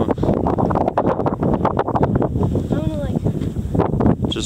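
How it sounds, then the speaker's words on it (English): Gusting wind buffets the microphone near the summit on the long side of West Spanish Peak, a loud, continuous rushing roar with a voice speaking over it. "Just remember that wind, dude."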